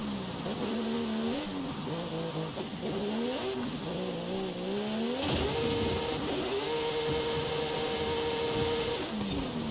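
A car drifting sideways on the handbrake in Forza Horizon 5, with a steady engine drone rising and falling in pitch as revs climb and a long tire squeal sliding through the middle.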